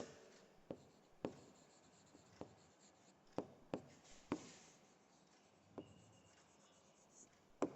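A pen writes on paper in a quiet room for a 7th-grade maths fractions lesson, with steady faint scratching strokes broken by several sharp taps as the tip lands and lifts.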